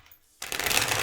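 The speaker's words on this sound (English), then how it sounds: "Let's get to the tarot. 3 shuffles, 1 more." Tarot cards being shuffled: after a brief quiet moment, a dense riffling rustle starts abruptly and continues loud and close to the end.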